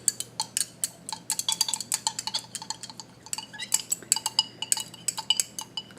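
Barium chloride dihydrate is stirred to dissolve it in a lab vessel, giving a fast, uneven run of bright metallic clinks and taps close by, one stroke after another with no pauses, heard alone without talk.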